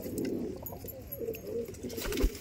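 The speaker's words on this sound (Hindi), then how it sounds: "ये सभी कबूतर हैं जी" Madrasi pigeons coo softly in low, throaty, rolling calls, repeating close by against a quiet background.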